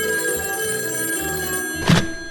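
A telephone rings with a sustained electric bell tone that fills the first moments, followed by a soft thunk as the call is picked up, no voices present.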